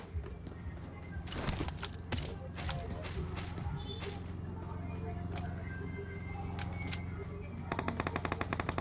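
Rapid automatic gunfire from the BGMI battle royale game crackles in dense bursts with scattered single shots and a fast rattling volley at the end, loud and continuous over game ambience.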